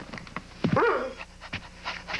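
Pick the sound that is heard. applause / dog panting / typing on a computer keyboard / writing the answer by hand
dog panting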